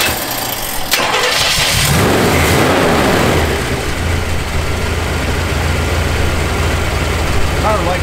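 A 1971 Chevrolet Corvette engine cranks and catches, then revs up loudly and settles into a steady, rumbling idle close by.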